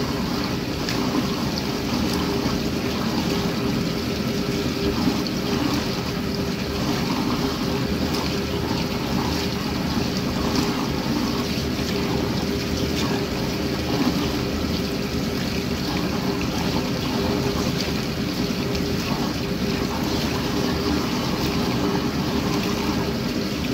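A loud, steady mechanical hum with a low rumble runs unbroken throughout, a 1962 Norge AW-220 automatic washing machine droning close by with no pauses.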